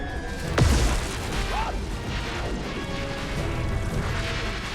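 A bomb blast in the video game Ghostbusters: Spirits Unleashed: a single sharp, loud boom early on with a falling whoosh, then a rumbling tail under steady game ambience.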